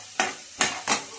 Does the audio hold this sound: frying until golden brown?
yes